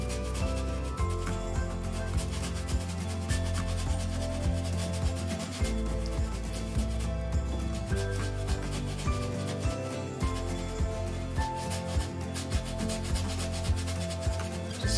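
A paintbrush scrubs black acrylic paint onto canvas in a steady, close rubbing rhythm of repeated bristle strokes, continuous throughout at a moderate, even level.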